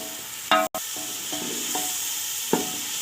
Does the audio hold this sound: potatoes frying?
yes